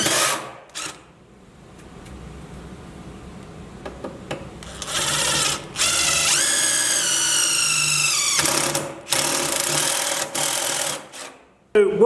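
A power drill starts a pilot hole in Motobilt steel armor on a Jeep TJ, its motor whining up and winding down in a couple of close, sustained bursts, with scraping and handling noises between them.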